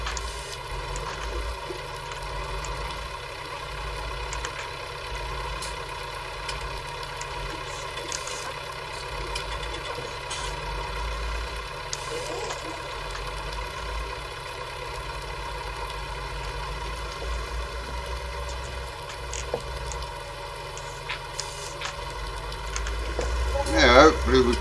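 A 1964 farm tractor runs steadily throughout during the bale harvest, a continuous mid-pitched engine drone heard from the driver's seat, with a few louder knocks toward the end.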